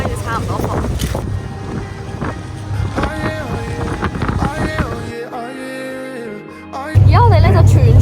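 Inflatable boat racing at full speed toward Iguazu Falls, a steady loud rush of engine and wind roar with water spray, people talking and exclaiming over it, and a sharp burst of louder roar near the end.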